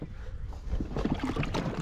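A small boat's motor coughs and starts up beside the Ili River during a fishing trip, a rough, close churning rumble that builds steadily over a couple of seconds.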